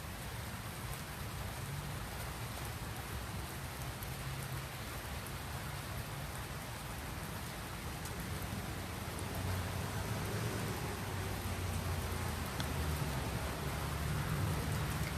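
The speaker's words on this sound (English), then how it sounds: "It's raining and I'm staying nice and dry in our cheeky hut." Steady rain pattering on the roof of a small garden hut, a continuous close wash of drops with a low rumble underneath that swells slightly toward the end, with no voices.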